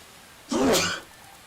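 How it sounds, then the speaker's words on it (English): A single sharp human sneeze bursts out close and loud for about half a second, then drops back to quiet room tone. "I will try to provide more warning before I sneeze next time."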